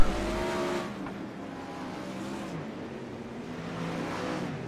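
Engines of 360 wingless sprint cars roar around the Lernerville dirt track, a loud sustained racing drone with a sharp burst at the start and a passing swell, no talk.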